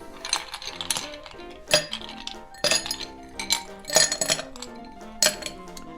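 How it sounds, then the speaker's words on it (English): Ice cubes drop into a Collins glass for a dark rum highball, landing in several bright, loud clinks and clatters spaced over a few seconds, with no talking. "The first thing we're going to do to make this drink is to fill our Cullen's glass with ice."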